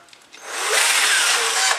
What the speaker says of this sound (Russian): Получается вот такое сверление.